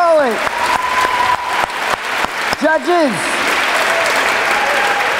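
Loud, continuous audience applause at a poetry slam, with a host's voice speaking over the clapping as it carries on steadily throughout.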